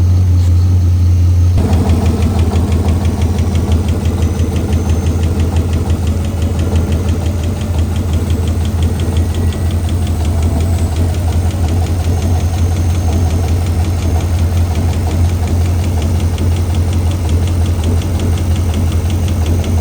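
An abandoned V8 race car engine runs steadily with a loud, close, rhythmic knock once its oil has warmed and pressure dropped, a continuous heavy idle with no talk over it.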